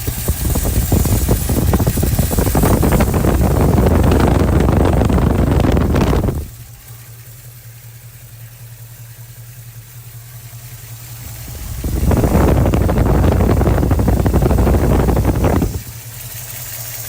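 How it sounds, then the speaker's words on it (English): A 1973 Ford Mustang Mach 1 tribute SportsRoof with a 4-speed manual idles under the open hood, a loud, steady low rumble for about six seconds, then it drops to a quieter hum before returning loud again near the end. "the engine idling."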